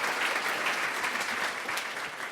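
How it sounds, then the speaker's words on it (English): Studio audience applause at a comedy podcast taping, a steady dense wash of many hands clapping, loud and close, with no talk over it. "And then just give me some applause."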